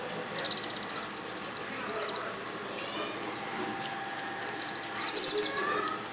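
A small bird being fed sattu gives two bursts of rapid, shrill chirping, each a fast string of thin, high cheeps lasting about a second or more, close and fairly loud, with a quiet pause between them.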